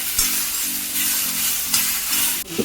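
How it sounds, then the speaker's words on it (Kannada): Spices sizzle and crackle softly in a pan on a low flame for a country chicken curry, with a steady frying hiss broken by a few stirring scrapes, close and alone. "ಲೋ ಫ್ಲೇಮಲ್ಲಿ ನೀಟಾಗಿ ಫ್ರೈ ಮಾಡ್ಕೊತೀನಿ"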